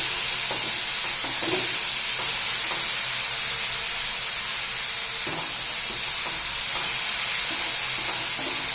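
Bay leaf, a cardamom pod, ginger and garlic roast in oil for a hotel-style peas paneer, giving a steady sizzle under a strong continuous hiss, with occasional faint scrapes and stirs throughout.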